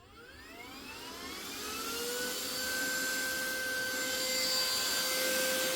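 Vacuum cleaner with the attachment removed, sucking spilled diamond painting drills out of carpet; a steady motor roar that builds slightly in pitch and strength, with a rising whine and faint scratchy rattles of small plastic beads.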